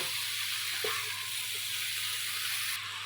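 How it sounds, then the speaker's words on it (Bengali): Mixed vegetables including black eggplant frying in a pan, a dense, even hiss of sizzling oil heard close and unbroken, with a faint knock of stirring early on. "দিয়ে ভালোভাবে একটু নাড়াচাড়া করে মিশিয়ে নেব।"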